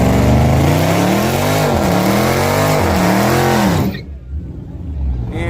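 A street racing car at the Yellow Belly strip, fitted with a new intake and running catless, revs loudly up close in repeated rising and falling sweeps, then the engine note cuts off abruptly, leaving quieter background noise.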